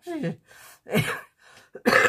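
A short cough with throat clearing, broken into a few harsh bursts, close to the microphone.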